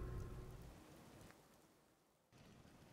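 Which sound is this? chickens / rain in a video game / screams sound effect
rain in a video game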